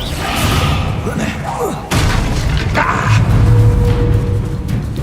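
Bombarda explosion spell cast in the video game Hogwarts Legacy, a loud booming blast with a sharp impact in the middle, thudding rumbles and crashing debris around it, with voices underneath the battle noise.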